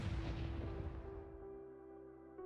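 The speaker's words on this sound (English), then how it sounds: "That was the original boosted crossbow bolt. Pretty lousy fireworks." A boosted crossbow bolt explodes in a video game, a single deep boom that rumbles and slowly fades out over a couple of seconds, heard alone.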